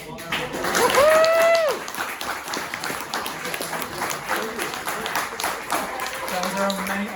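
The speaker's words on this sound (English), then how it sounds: "please give Adam another round of applause" An audience at an artist talk on AI photography at Peak Design breaks into applause, a sustained spread of clapping with whoops and voices mixed in over several seconds.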